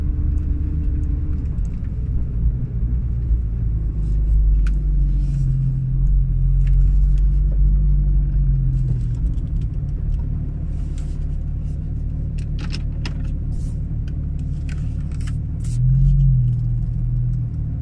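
A 2016 Porsche 911 GT3 RS with PDK gearbox drives along a road, its engine a steady, deep rumble inside the cabin with a few swells of revving and occasional faint clicks.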